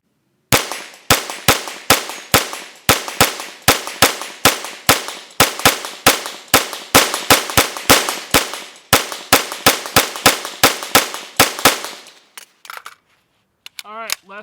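A BCM rifle fires a full magazine at a shooting range, over twenty sharp, loud shots in a steady rhythm about half a second apart, then stops, leaving brief faint noises and a short voice at the end.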